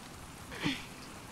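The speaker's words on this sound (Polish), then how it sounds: "Nie stójmy na deszczu." Steady rainfall in the video game The Last of Us Part II, a soft even hiss of drops on surfaces with one brief swell midway.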